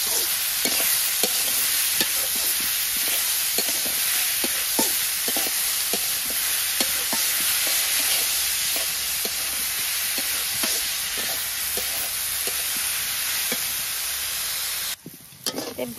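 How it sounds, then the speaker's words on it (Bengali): Vegetables sizzling and frying steadily in a pan while being stirred, with a constant loud hiss and repeated scraping stir strokes throughout, no talking. "ভাজি দিয়ে দিই। মিশিয়ে নিই নাড়াচাড়া দিয়ে।"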